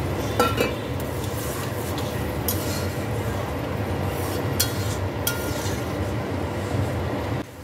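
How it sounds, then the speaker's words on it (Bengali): A curry in a pan bubbles and simmers steadily after water is added, a close, continuous boiling hiss with a few faint clicks from the pot. "এবার ঝোলটা ফুটে উঠেছে"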